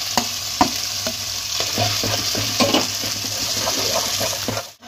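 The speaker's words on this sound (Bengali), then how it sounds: "আমি এখন নেড়ে নেড়ে এটাকে আমি ভালোভাবে ভেজে নেব।" Pea paste with ginger paste is stirred and fried in a pan for kulcha filling. Rhythmic spoon scrapes and taps repeat over a steady close sizzle.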